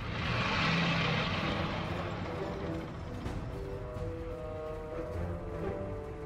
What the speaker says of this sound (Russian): Десантные самолеты готовы к вылету.